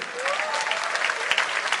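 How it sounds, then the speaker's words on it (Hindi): A Hindi kavi sammelan audience bursts into loud, dense applause, with a few scattered cheering voices rising over the steady clapping. "एक बार जोरदार तालियां बजनी चाहिए"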